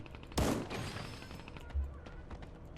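Gunfire in the cartoonish battle game Sausage Man: a loud, sharp shot bursts out near the start, followed by a lower, softer thump a little over a second later, with faint game noise in between.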